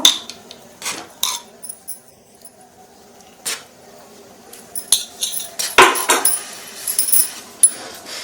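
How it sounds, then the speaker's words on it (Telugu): A spoon clinks against a pan while ghee goes into Karachi halwa and the mixture is stirred, giving sparse metallic taps and scrapes, close and fairly loud, with quiet gaps between and a busier cluster of clatter near the end. "మళ్ళీ 2 స్పూన్లు నెయ్యి వేసుకుంటున్నాను"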